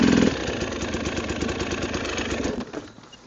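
A motorcycle engine runs steadily at mid-pitch as the rider works throttle and clutch for a slow wheelie in snow, a loud, close, continuous drone that drops away sharply in the final half second.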